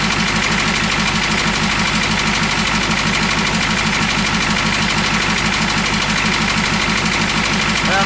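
A 1969 Ford F-250 engine runs with a knock, a fast, even, rhythmic ticking pulse over a steady idle hum that continues without a break throughout.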